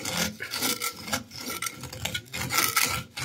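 Copper pipe is sanded by hand before phosphor-copper brazing, a close, continuous rasping scrub in quick back-and-forth strokes.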